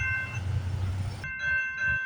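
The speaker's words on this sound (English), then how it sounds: "All right, we got a CN train coming down the line." A CN freight train rolls along the Dundas Subdivision near Milepost 25 at Hardy in the evening, a steady low rumble close by with a sustained high tone over it that cuts off abruptly, leaving a quieter rumble behind.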